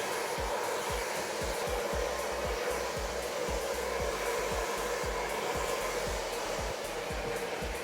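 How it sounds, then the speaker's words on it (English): A red Chi Turbo hair dryer runs continuously and loud at close range, a steady rushing blow with faint rhythmic thumps as it is worked through hair. "And I just blow dry my hair real quick."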